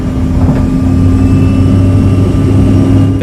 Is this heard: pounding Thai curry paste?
no